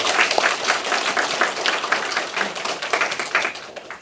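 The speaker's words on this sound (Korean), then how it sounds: "서원단을 위해서 함께 힘찬 박수 한번 보내드릴까요?" A congregation at a Won Buddhist temple service breaks into brisk, sustained applause, many hands clapping close and dense for the full stretch without letup.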